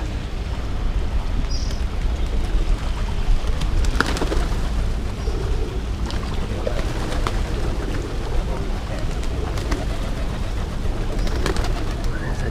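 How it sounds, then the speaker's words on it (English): A large flock of pigeons cooing near a floating market in Bangkok, a continuous dense murmur of coos over steady background noise and occasional distant sounds. "It's a lot of pigeons."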